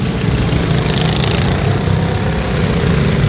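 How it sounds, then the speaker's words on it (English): Racing lawn tractor engine at a 30 minute endurance race at Prosperity Motorplex in Castle Hayne, NC, droning loudly and steadily with a dense broadband roar and no break, no talk over it. "Here is your Tenacious Tata tractor."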